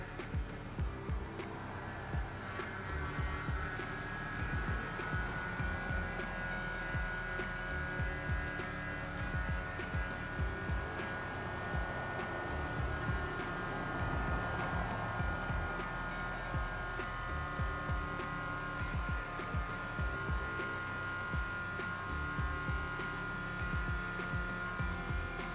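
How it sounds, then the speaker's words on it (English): An electric fuel pump runs continuously at steady volume, a constant close whine and hum with faint ticking and no speech over it. "We keep the fuel pump on."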